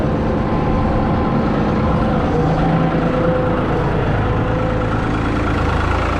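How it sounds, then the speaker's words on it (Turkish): A New Holland tractor engine runs steadily at low revs, a loud, continuous low diesel rumble with a constant throb and no talk over it. "Traktörümüz düşük devirde."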